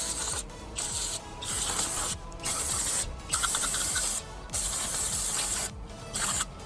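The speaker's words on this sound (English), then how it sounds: "now all you gotta do is spray it" Aerosol engine degreaser sprayed in repeated hissing bursts onto greasy turbocharger parts from a Subaru STI with over 270,000 miles, each spray lasting about half a second to a second with brief pauses between, close and fairly loud.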